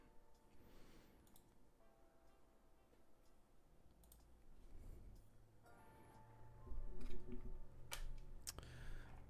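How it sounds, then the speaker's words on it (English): Clicky switches on a GMMK Pro mechanical keyboard typed in rapid bursts of sharp, typewriter-like clicks, quiet and somewhat distant over background noise, growing busier toward the end. "GMMK Pro with a clicky switch sounds interesting."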